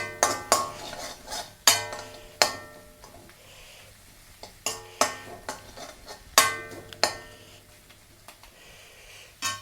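Late-night pasta ingredients being stirred in a pan, with sharp metallic clinks and scrapes of a utensil striking the pan in an irregular rhythm, close and fairly loud.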